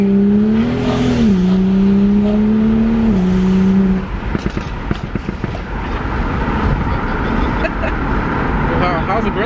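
A car's engine rising and revving in sport mode with exhaust pops, loud and close, while people talk over it during the first seconds.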